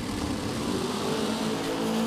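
NHRA drag race cars launching off the line at the Winternationals in Pomona, a distant steady engine roar with a faint droning tone, heard from afar and without talking.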